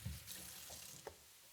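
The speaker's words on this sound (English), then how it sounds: "I'll just wash this right away too. That is one thing I like to get done, is just like wash this stuff right away, clean the sink out." Dishes are washed under a running tap in a kitchen sink: a faint, steady rush of water lasting just over a second, with a small clink near the end.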